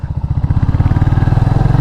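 A 2021 Royal Enfield Classic 350, roughly 200 kg, rides along with a steady low single-cylinder thump, its rhythmic pulsing loud and close throughout with no talk.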